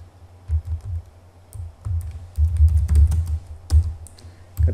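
Keystrokes on a computer keyboard while entering network switch commands, irregular close clicks in short bursts, some runs quicker and denser than others.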